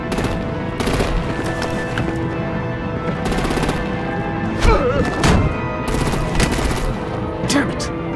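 Sustained automatic gunfire and thuds from the video game Batman: The Enemy Within, dense rattling volleys under a steady background din, with faint voices mixed in.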